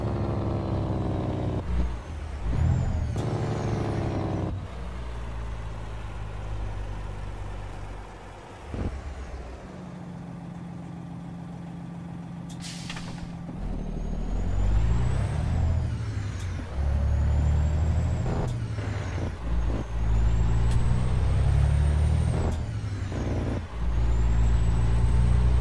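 A truck's Jake brake in American Truck Simulator: loud, throaty engine braking in repeated bursts, with air-brake hisses and gear changes between them and a sharp hiss near the middle.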